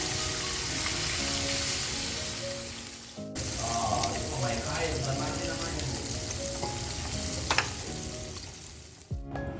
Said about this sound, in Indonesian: Ini ayamnya aku goreng dulu ya, tapi nggak terlalu garing banget, jadi sampai kekuningan aja